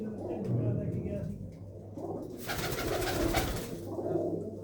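Low, soft cooing of a female pigeon at a pigeon loft in Mansa, Punjab, rumbles through a busy outdoor background, with a burst of broadband noise in the middle.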